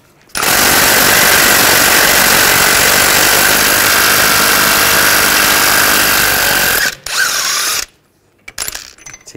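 A power tool, likely an impact gun, drives a 24 mm 12-point socket to remove the front axle bolt on a 2009-2017 Volkswagen Tiguan, roaring loud and steady for about six seconds before a brief second burst and a stop.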